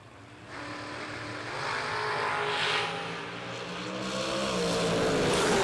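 A Jeep Cherokee and a Corvette launch down a drag strip: an engine roar swells from moderate to loud, dipping briefly before climbing again in rising sweeps, with no talking.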